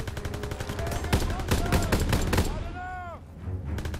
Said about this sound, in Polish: Okej, okay, ale nie widzę, kto strzela.